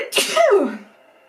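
A single sharp human sneeze, close and loud, with a quick intake and burst followed by a fading tail, no talk around it.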